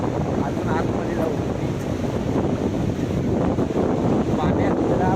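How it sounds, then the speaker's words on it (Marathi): Sea waves at Kelva beach make a constant broad roar of surf, with wind buffeting the microphone throughout and voices faintly mixed in. "बघा लाटा कशा येत आहेत"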